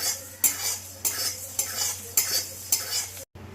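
Whole spices dry-roasting lightly in a pan before grinding for a chickpea curry, a spoon stirring and scraping in five or six evenly spaced strokes over a low hum, close up, ending in a brief silence.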